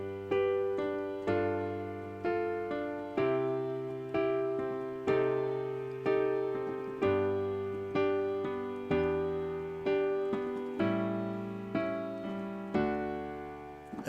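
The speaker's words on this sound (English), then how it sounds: "you get this really nice, clean sound like this." A steady sequence of piano chords with the sustain pedal changed between them, each sustained and cleanly separated from the next, with no blurring between changes.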